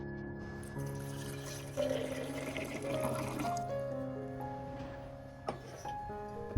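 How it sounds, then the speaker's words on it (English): Clean filtered water, about 500 milliliters, pours into a container, making a steady liquid splash and trickle with the pitch rising as it fills. No one speaks. "Next, we add about 500 milliliters of clean filtered water."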